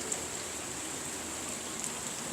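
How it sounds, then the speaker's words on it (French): Heavy rain pours down steadily during a thunderstorm, a dense continuous hiss of drops hitting surfaces with no thunder or voices. "Vraiment de très fortes averses."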